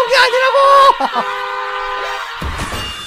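A vehicle horn toots in a short, bright, tonal burst, loud and close, followed by a rougher rumble as the sound trails off.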